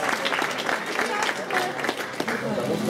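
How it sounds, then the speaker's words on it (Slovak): A crowd claps at a medal ceremony for an evening running race in Zvolen, a dense patter of applause that continues steadily for about three seconds, with voices underneath. "Poprosíme aj potlesk teda pre Janku Zádorovú."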